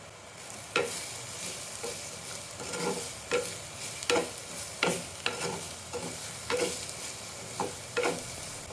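Bitter gourd is stirred with turmeric and salt in a pan, a spoon scraping and knocking against the pan in irregular strokes about once a second over a soft, steady sizzle, with no talk.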